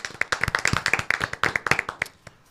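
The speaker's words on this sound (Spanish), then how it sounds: "Vamos a darle un aplauso." A small gathering at a youth church panel gives a round of applause, with quick, crisp hand claps close to the listener that fade out after about two seconds.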